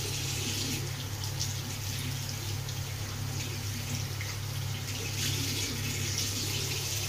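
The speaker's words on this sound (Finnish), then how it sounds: "pesen kädet oikeasti" A tap runs steadily while hands are washed under the stream, giving an even, close hiss of running water with faint splashing throughout and no talk.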